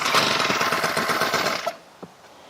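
The small gas engine of a Tomahawk backpack sprayer sputters loudly into life after a pull start, runs roughly for under two seconds, then cuts out, leaving a faint knock.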